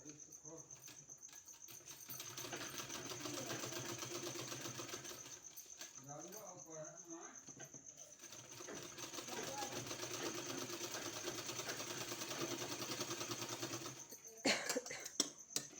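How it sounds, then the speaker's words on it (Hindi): A sewing machine stitches triangular fabric pieces together for a sleeve design, running in a steady close whir for long stretches, pausing briefly midway and stopping near the end, with no talk over it. "इसको आपस में इस तरह से मिलाते हुए और इसमें हमको सिलाई लगाना है।"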